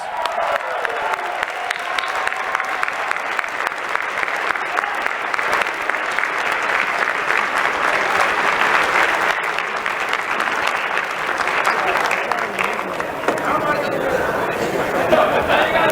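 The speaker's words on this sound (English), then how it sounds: "Give him a round of applause." Sustained audience applause fills a debate hall after a gentleman wins an auction lot at a Libertarian presidential nomination debate, a dense steady roar of clapping with some cheering and crowd noise running throughout.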